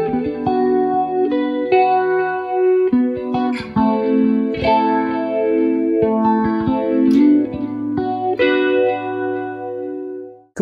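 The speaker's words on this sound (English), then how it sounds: "With the second tap, we've just got a phaser set up there. So we've got these cool modulated sounds." Electric guitar played through a phaser effect on a Headrush Flex Prime multi-effects processor, with sustained chords and melodic notes swirling in a steady modulated sweep, loud and close with no talking.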